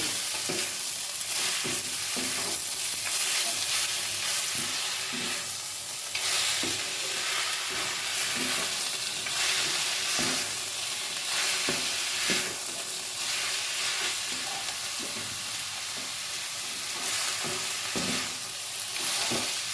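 Broken bori, potato and ash gourd fry in a pan for a winter vegetable dish, with a dense, continuous sizzle and repeated close stirring scrapes at a steady rhythm throughout.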